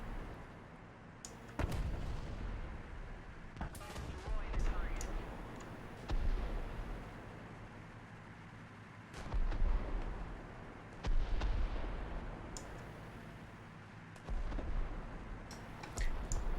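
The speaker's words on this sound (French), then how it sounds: "Darth Maul qui se fait tirer dessus toujours" Gunfire aimed at Darth Maul during a competitive video game cup final: repeated bursts of shots and thuds at moderate, fairly distant volume, with a commentator speaking French over the action.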